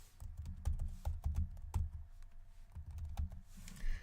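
Quiet keystrokes on a computer keyboard, a run of soft uneven clicks and taps close by, no voices.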